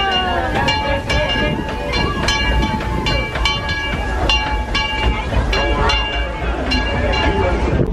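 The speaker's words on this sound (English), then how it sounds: "a dining car on choo-choo train." Disneyland Railroad train ride, heard from aboard a passenger car as a steady rolling rumble with clinking and rhythmic rail clicks, continuous and fairly loud, with voices chattering throughout.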